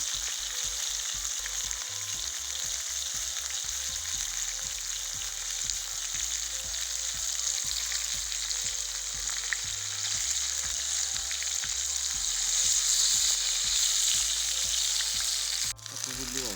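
Potatoes sizzle and crackle steadily in a hot pan for a long stretch, with a low background hum and a brief clatter near the end.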